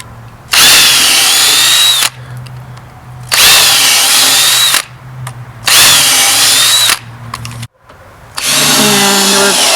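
A power drill drives screws into a wooden raised bed: three loud, steady whirring runs of about one and a half seconds each, separated by short pauses, then a fourth run begins, close and clear.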